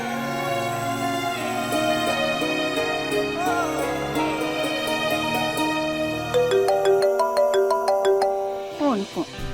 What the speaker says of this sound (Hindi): Phone phone.